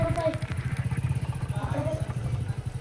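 A motorcycle engine idles with a steady low, pulsing chug, close by, while someone talks over it.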